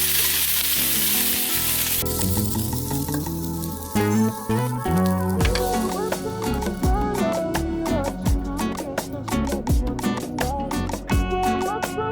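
Dosa batter poured onto a hot pan crackles and sizzles steadily at close range, a bright continuous frying hiss with small popping bursts running the whole time, no voices over it.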